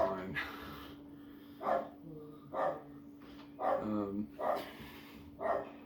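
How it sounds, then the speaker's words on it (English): A dog barks in a loose series of about six sharp barks spaced across the scene, moderately near, over a steady low hum and background room noise, with no one talking. "I apologize for my uncle's dog."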